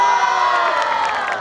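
A street crowd at a cat and magic show in Sinchon cheers and whoops loudly, a dense, sustained roar of voices with children shouting, close and continuous.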